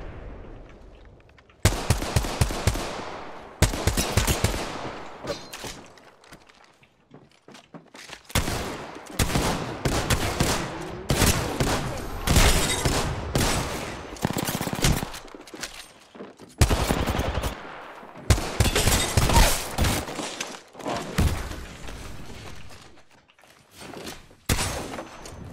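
Gunfire in the Apex Legends video game, loud bursts of rapid shots and sustained volleys with brief gaps between them, continuing for about twenty-five seconds with no speech.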